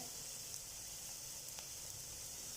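Onion sautéing in a pan for a restaurant-style matar paneer, a steady close sizzle and hiss with no talk over it.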